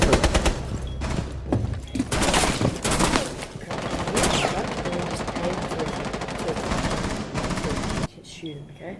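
Dense rapid gunfire from a video game shootout, loud bursts and continuous machine-gun rattle running throughout under excited talk, cutting off abruptly near the end.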